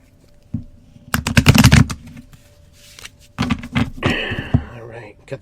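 Two bursts of rapid, crisp riffling as a deck of cards is shuffled close up for a card reading, with some handling noise and a brief voice near the end.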